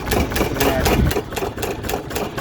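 An old 25HP single-piston engine runs on its governor, giving a loud, close, rapid rhythmic thumping with a mechanical clatter, steady throughout.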